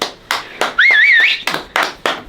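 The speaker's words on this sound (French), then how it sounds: "On peut s'applaudir, hein." A few people clapping for themselves after changing an engine, sparse separate bursts of hand claps with a wavering whistle in the middle, close and loud.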